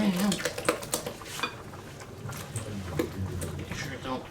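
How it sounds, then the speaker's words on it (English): A utensil scrapes and clinks against a mixing bowl while a mixture is stirred in a home kitchen, giving irregular light taps and scrapes, with people talking nearby. "Yeah, keep stirring."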